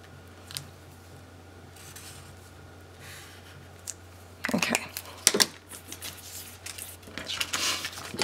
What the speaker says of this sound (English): These are the Tim Holtz really long scissors that'll cut through anything.